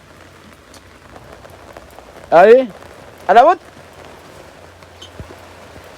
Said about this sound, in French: même s'il pleut, on s'en fout